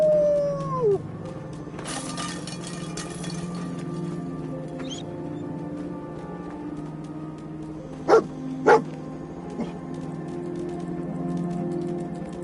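A dog in the video game Fallout 4 barks twice in quick succession, sharp and fairly close, over quiet ambient game sounds with scattered clicks and a faint drone.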